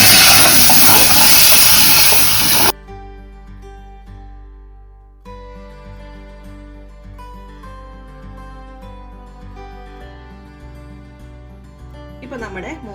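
Buttermilk poured into a hot clay pot for a coconut-free moru curry gives a loud, broad sizzling hiss for under three seconds before music takes over.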